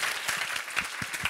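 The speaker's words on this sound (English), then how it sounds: "I'll take your applause." Steady applause from an audience, a dense patter of many hands clapping at moderate volume for a brief moment.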